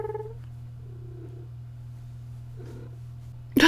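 Cat named Pumpkin purring close to the microphone, a low steady rumbling hum that holds evenly for several seconds, soft and alone before a sudden loud noise at the end.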